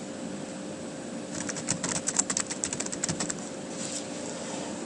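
Keys clatter on a computer keyboard in a quiet room: a short burst of quick, light taps in the middle, over a steady low electronic hum.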